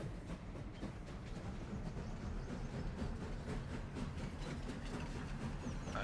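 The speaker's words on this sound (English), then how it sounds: "And let's take this train" A freight train rolls along in Farming Simulator 25, hauling loaded oats across the map, giving a steady low rumble with faint rhythmic clacking throughout, constant and moderately quiet with no talk.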